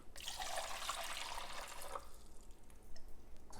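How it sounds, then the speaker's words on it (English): Water pours steadily for about two seconds into a drip coffee machine with a bright splashing rush, then tapers into faint dripping and quiet handling noises. "I'm going to pour this water into the machine"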